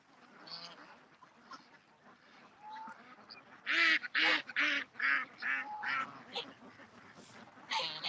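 Goose honking at a duck pond in the morning, a run of loud, close honks in quick succession, some in bursts, with faint background calls between them.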